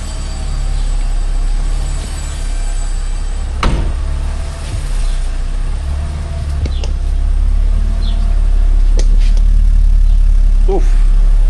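A 1980 BMW 528i sits idling after starting, its engine giving a steady low rumble throughout with a few sharp clicks and knocks on top, fairly loud and close.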